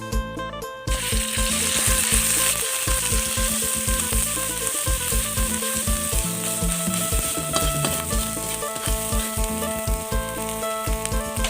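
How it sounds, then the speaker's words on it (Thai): Thai curry paste for a rich beef gaeng om being stir-fried in hot oil, a dense, steady sizzle and crackle that keeps going close up, with some clattering stirring throughout. "จากที่เขาตำเครื่องพริกแกงเสร็จนะครับเราก็เอา มาคั่วน้ำมันนะครับ"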